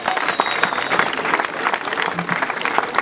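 A seated audience claps steadily at a ministerial address in the DRC, the dense applause filling the room evenly for the whole stretch without letting up.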